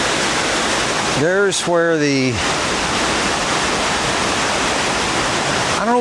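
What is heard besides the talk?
creek water flowing toward Springfield Falls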